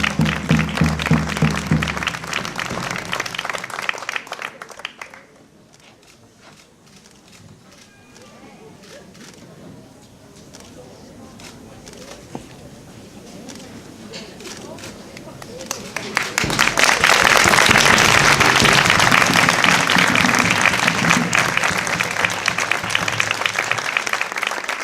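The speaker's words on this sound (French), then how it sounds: "Je pense qu'on peut les applaudir bien fort." Loud applause from an audience at a civic ceremony in Vence crowning a local queen. It claps briefly at the start, gives way to a quieter stretch with voices, then returns as sustained, dense clapping.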